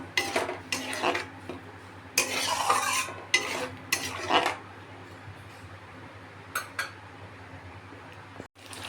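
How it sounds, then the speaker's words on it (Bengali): Sour yogurt is stirred in a pan for egg korma: a run of metal spoon scrapes and clinks against the pan in short bursts, then quieter intermittent strokes over a faint low hum, with no voices. "ছোট চামচের চার পাঁচ চামচ মতো টক দই বেশ কিছুক্ষণ নেড়ে নেব"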